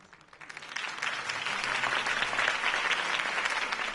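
Crowd applause in a video game following Harvey Dent's campaign speech, swelling up from a faint start into a steady, full wash of clapping that carries on to the end.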